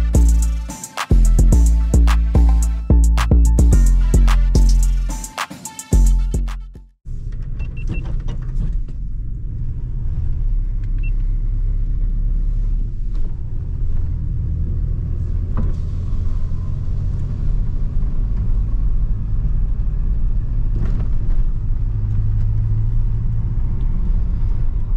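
Lowered 1985 Chevrolet C10 short-wheelbase pickup with a V8, heard from inside while driving: a steady low engine and road rumble runs continuously, after a few seconds of loud music that cuts off abruptly at the start.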